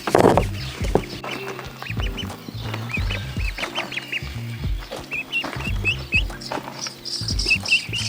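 A farmyard duck quacks repeatedly in short, loud bursts close by while foraging under flipped rocks on a homestead, with higher bird chirps scattered through the background.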